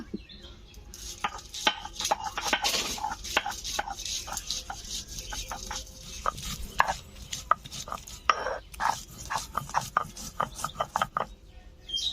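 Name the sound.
grinding onion, garlic and green chillies into a paste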